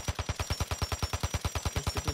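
Gunfire in Warzone Mobile, a fast automatic burst of about twenty evenly spaced shots, loud and close with no talking over it.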